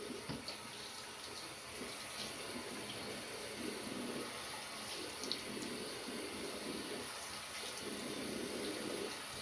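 Tap water runs steadily into a bathroom sink while a man rinses off after a wet shave, a continuous mid-level splashing wash with small fluctuations and no talk.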